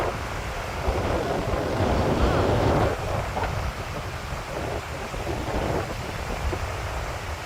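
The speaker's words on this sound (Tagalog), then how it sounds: "Lakas ng hangin." Strong wind gusts across the open shore of St. Albans Lake in Vermont, a steady broadband roar buffeting the microphone that swells briefly louder early on, then holds.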